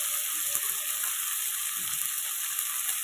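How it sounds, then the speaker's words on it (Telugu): Ginger garlic paste frying in a pan gives a soft, steady sizzle with light crackles and occasional stirring taps, quiet and close with no talk. "రెండు నిమిషాలు ఫ్రై అయ్యాక"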